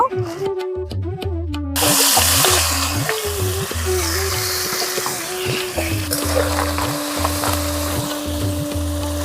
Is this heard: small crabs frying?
yes